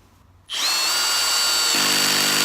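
A brushless Izito cordless drill, clutch set to 5, starts abruptly and runs with a steady high whine, then picks up a rapid clicking rattle as the clutch begins to slip.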